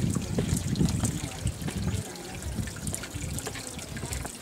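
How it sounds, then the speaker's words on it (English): Water trickles and splashes through a stone drainage channel at Machu Picchu, making a continuous close, bubbly rush with small splashes. "The water drips down, and then it serves all the various homes."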